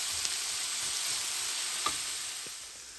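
Onions and carrots sauté in a pan with a steady, close hiss of frying, broken by a couple of faint stirring clicks, with no one speaking.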